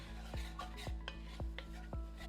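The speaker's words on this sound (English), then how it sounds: "Give that another good stir." A spoon stirs a pot of chili, scraping around the metal in four steady, evenly spaced strokes, close and fairly quiet, with no talking.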